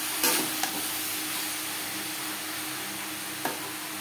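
Bottle gourd is stirred with salt and turmeric in a pan on a gas flame: a steady, even sizzle with a few light scrapes of the spoon, and no voices.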